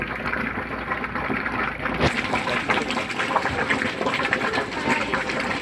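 Quicklime (calcium oxide) reacting vigorously with water, giving a steady, loud bubbling and hissing rush like a pot at a rolling boil, heard close and continuous with no talk.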